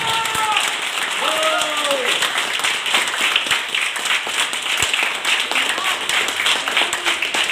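A crowd at an Ahmedabad Harmony Group business meeting breaks into loud, sustained applause with many hands clapping together, while a voice carries over it early on.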